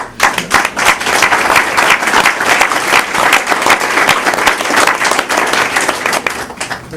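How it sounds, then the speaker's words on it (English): A crowd claps and applauds steadily for several seconds, a dense, even wash of hand claps with no voices standing out. "That deserves a round of applause."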